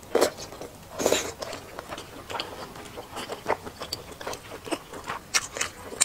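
Someone eats cold Sichuan pepper-sesame saliva chicken up close, with soft irregular bites, crunches and chewing sounds that come and go and no talking.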